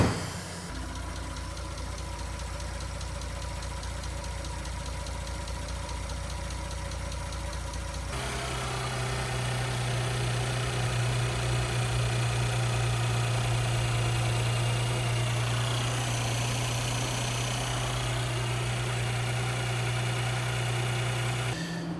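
Audi S5 B9 engine idling steadily with a faint rhythmic tapping, close and loud, then settling into a deeper, stronger hum partway through before easing back slightly near the end.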